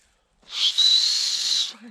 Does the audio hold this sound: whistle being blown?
yes